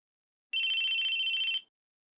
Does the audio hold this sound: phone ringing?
yes